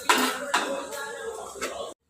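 A spoon strikes and scrapes a pan of frying chicken and tomatoes in a few sharp metallic clanks spaced about half a second to a second apart, with quieter scraping between them.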